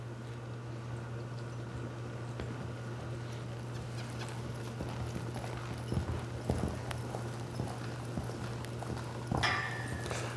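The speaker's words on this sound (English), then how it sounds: "this horse lopes just a lot shorter frame to the right" A horse lopes under saddle during a training session, its hooves giving a faint, steady clip-clop rhythm over a constant low hum, with a sharper scuff near the end.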